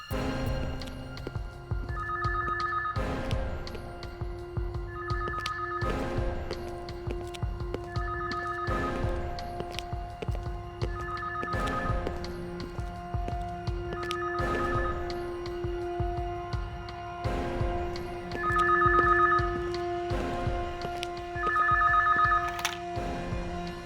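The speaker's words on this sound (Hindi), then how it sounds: "फोन कहाँ बज रहा है?" A telephone rings repeatedly in regular double bursts over a steady hum and clattering background noise, going on without any answer.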